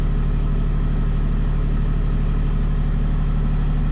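Wheel Horse hydrostatic garden tractor from around 1974, fitted with a snow blade, its engine idling in a steady, loud, low throbbing drone with an even rhythm and no talk.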